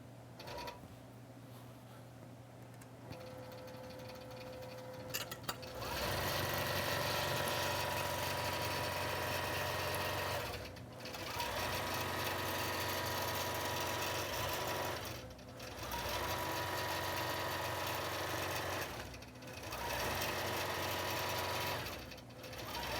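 A computerized quilting machine stitches an art quilt in a steady, loud mechanical whir that runs for long stretches, with a quieter start and brief dips between passes.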